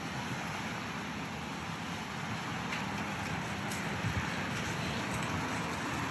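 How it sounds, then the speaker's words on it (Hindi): Steady rain falls continuously in the USA on a morning walk, a dense hiss of drops on surfaces with no voices, even and unbroken throughout. "रेन हो रही है बारिश हो रही है"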